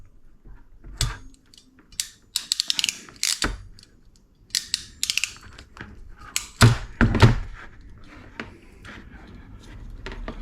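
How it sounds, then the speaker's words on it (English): A crimping tool presses a small 5 amp connector onto a positive cable while wiring a live bait tank on a fishing boat, giving sharp ratcheting clicks and a few heavy thunks, close and loud, in irregular bursts. "Just going to crimp that up."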